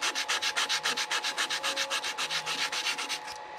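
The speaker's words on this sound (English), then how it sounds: "so I'll just hand sand it here to make those cut marks go away" Rhythmic back-and-forth rasping of sandpaper on a wooden magnifying glass stand, quick even hand-sanding strokes close up, continuing steadily before trailing off at the end.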